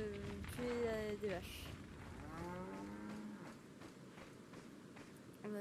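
Cows low in the village of the Resident Evil 4 VR game, with several long, drawn-out moos, loud and near, over a steady ambient background, as a player talks.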